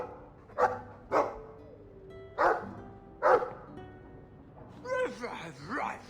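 A Mabari war dog in the video game Dragon Age II barks four times in loud, spaced bursts, then ends with a wavering whine.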